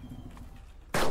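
Single loud gunshot in the online battle royale video game Cuisine Royale, a sudden sharp blast at the very end after a quiet stretch of game background.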